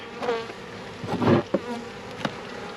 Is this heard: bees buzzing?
yes